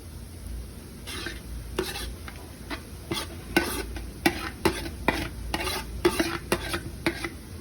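Vegetables stirred in a hot pan until wilted, with repeated sharp clacks and scrapes of a spoon against the pan over a soft continuous sizzle, close by and rhythmic, no talking.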